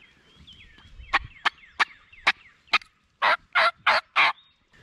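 A wild turkey gobbling on an opening morning hunt in Kentucky, a run of sharp, loud rattling calls repeating rapidly, with the last several notes fuller and more sustained, heard alone in a quiet morning.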